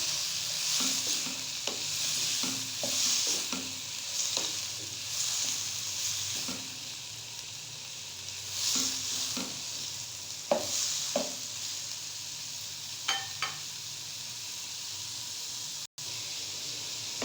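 Diced potatoes frying in a pan for vegetable fried rice, a steady close sizzle with repeated scraping stirs throughout.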